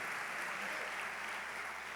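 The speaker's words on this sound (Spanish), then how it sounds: "si das un aplauso al Señor, dáselo fuerte" A church congregation applauding the Lord during a Spanish-language sermon, a dense, even roar of many hands clapping that holds steady throughout.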